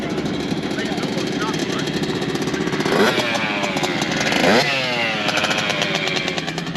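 Several motorcycles at a track day idle and rev nearby, producing a steady engine rumble with rising throttle blips, while people talk over it.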